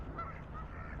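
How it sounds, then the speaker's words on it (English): Geese on a park pond give two short nasal honks about half a second apart, faint and somewhat distant over a low outdoor background, with no talking. "I really like watching this part of the park where the geese are in the pond area."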